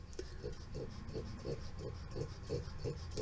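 Quick, rhythmic breathy pants from a dog, about three per second, steady and close against a low background hum.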